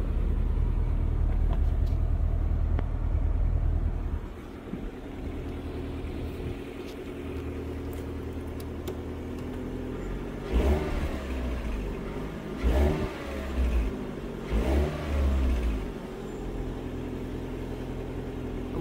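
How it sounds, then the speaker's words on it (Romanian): A Renault Megane GT with a 2.0 engine and 154,000 km idles with a deep low rumble, then gives three or four short, sharp revs in quick succession. Each rev rises and falls back to a steady idle, close and prominent. "Am și pornit mașină."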